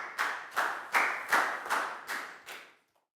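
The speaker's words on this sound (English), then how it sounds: "Big round of applause for Lackow." A class of schoolchildren applauding in unison, about seven loud, evenly spaced claps in a steady rhythm close by, ending abruptly.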